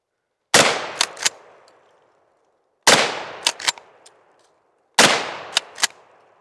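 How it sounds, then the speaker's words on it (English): A shotgun fires three sharp, loud blasts at a right-side target, each spaced a couple of seconds apart and followed by short echoing reports and decaying rumble. "So right side target, I'm going to take 3 shots at that thing"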